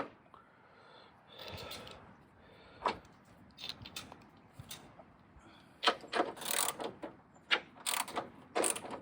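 Ratchet wrench tightening a bolt on the front strut of a 2016 Kia Soul, giving irregular bursts of mechanical clicking that grow busier and louder in the second half, with no talk.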